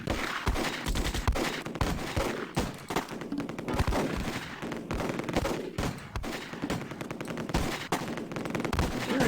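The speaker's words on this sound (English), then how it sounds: "I think I know where the MG42s are" MG42 machine gun fire in the WWII hedgerow game Close Combat, dense rapid bursts of automatic gunfire with overlapping shots and short gaps, fairly loud and continuous with no talk.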